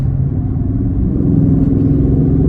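A car engine hums low and steady while climbing a hill, with a slight rise in rumble as paddle shifters take it up into sixth gear; the engine drone stays continuous and close, with no talking.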